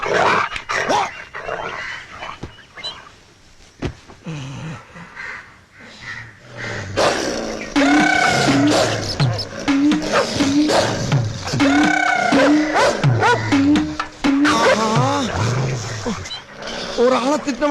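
A dog barks in repeated short bursts close by while someone shouts at it in Tamil, the barks mixed in with his scolding voice.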